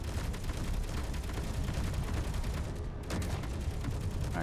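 Assault cannons firing in the space combat game Space Engineers: a loud, dense, continuous barrage of rapid booming shots that barely lets up, with a brief dip in intensity about two-thirds of the way through.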